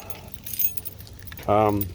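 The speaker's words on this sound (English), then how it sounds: "let me get the key here" Original Toyota factory keys for a 1972 Toyota FJ40 truck jangle briefly in a couple of metallic bursts, followed by a short voiced sound.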